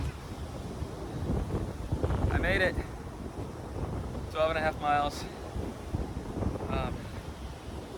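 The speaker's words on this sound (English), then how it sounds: "It's really windy today, in case you can't tell by the wind noise." Strong gusts buffet the microphone outdoors and produce a loud, rumbling roar that rises and falls throughout, while someone speaks a few short phrases over it.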